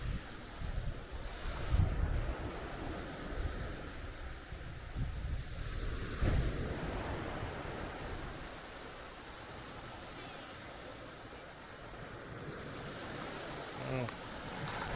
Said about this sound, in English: So I'm down here still at Sugar Beach